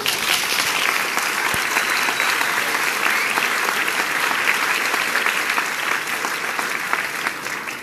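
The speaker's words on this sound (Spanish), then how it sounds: "Y un aplauso." A crowd at a Spanish-language political gathering breaks into loud, steady applause that holds evenly for about eight seconds, dense and continuous with no voices standing out.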